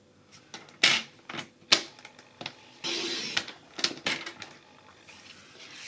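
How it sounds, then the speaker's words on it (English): Scissors or a blade cutting a 1-inch strip off a card, heard as a series of crisp close snips and scrapes at an irregular pace, moderately quiet with short pauses between cuts. "Then I'm going to cut off a 1-inch strip first of all"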